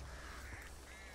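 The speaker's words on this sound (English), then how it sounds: "Birdies." Birds in the Back 4 Blood game let out a brief, faint honking quack-like call, a single short goose-like cry lasting about a second over a quiet hiss.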